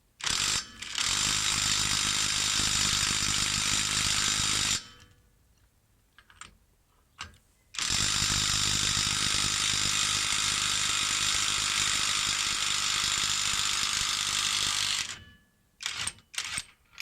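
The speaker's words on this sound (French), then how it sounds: "c'est vrai que la clé à choc est pratique pour ce type de manœuvre" Pneumatic impact wrench taking the nut off the rear brake of a Citroën DS3: two long, loud, continuous rattling bursts of about four and seven seconds, close up, separated by a quiet gap and followed by brief clicks.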